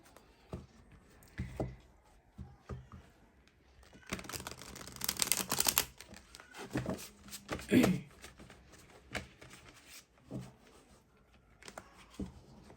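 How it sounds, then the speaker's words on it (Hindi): Tarot cards drawn one after another from a deck, a few soft papery slides and flicks with light tapping and handling noises, close and quiet, with longer rustling around the middle. "अब इस डेक से भी मैं सिमिलरली ऐसे ही 5 कार्ड्स निकालूंगी"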